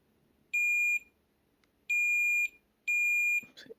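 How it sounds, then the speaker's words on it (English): A multimeter gives three clear, steady high-pitched continuity beeps, each about half a second long, while probing a water-damaged Nintendo DSi board, followed by a faint rustle at close range. "Let's check for continuity once more."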